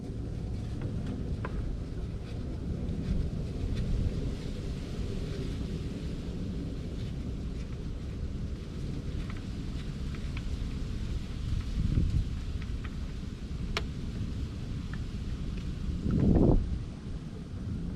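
Outdoor wind gusting around a 4th Gen 4Runner during a fluid change, a constant blustery rush buffeting the microphone with low rumbles and a stronger gust near the end.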